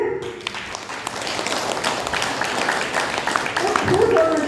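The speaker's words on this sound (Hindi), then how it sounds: "ताली बजना चाहिए" An audience clapping at a spiritual gathering, a moderate, steady patter of many hands that builds slightly toward the end, with a voice heard over it.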